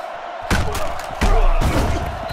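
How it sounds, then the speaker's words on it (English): A football tackle in Madden NFL 09 on PlayStation 3 lands as two heavy thuds in quick succession during a punt return, over a steady stadium crowd roar. "He's tackled right around the 42-yard line"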